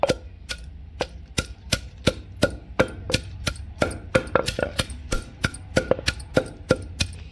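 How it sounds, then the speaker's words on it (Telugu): Red chillies and salt pounded in a stone mortar for a village-style rustic chutney, a steady series of sharp, close thuds in an even rhythm, about two strikes per second, with no voices. "ముందుగా పండుమిర్చి రుచికి కావాల్సిన ఉప్పు వేసుకొని దంచుకుందాం"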